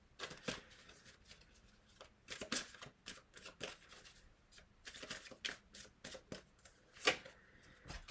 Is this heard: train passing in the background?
no